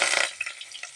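Mustard seeds, urad dal, onion and curry leaves frying in hot oil make a brief bright sizzle with small crackling pops, close and with no voices.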